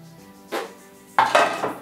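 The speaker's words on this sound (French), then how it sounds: "Je mélange ensemble." Sugar, salt and flour stirred together in a bowl for a lemon meringue tart, heard as two close scraping, clinking spoon strokes against the bowl, with no talk.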